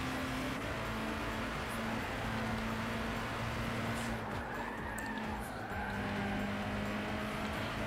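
Racing car lapping in Gran Turismo 6, Super GT500 class: a loud, continuous engine roar with shifting pitch as it accelerates and brakes, plus short tire squeals through corners, heard alone without talk.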